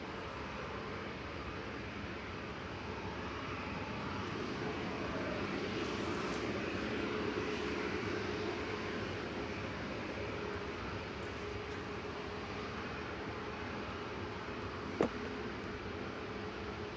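A four-year-old Scandinavian Airlines A320neo departing Manchester Airport for Oslo, its engines giving a steady, broad jet roar heard from a distance that swells slightly midway, with one sharp click near the end.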